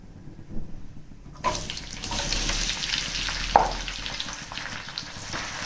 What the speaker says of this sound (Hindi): ऑयल के अंदर मैंने प्याज डाल दिए, इनको फ्राई करूंगी।